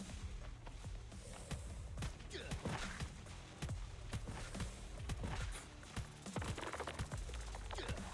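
Rapid video game gunfire during an island boss fight, including sniper rifle shots, a dense, loud barrage of sharp cracks and thumps that continues nonstop throughout.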